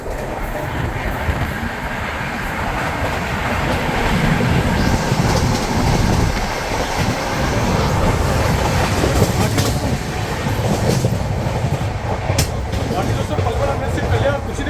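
Rajdhani Express passenger train running on the rails between Delhi and Mumbai, heard from inside as a loud, continuous rumble and rattle of wheels with swelling intensity, while a voice talks over it.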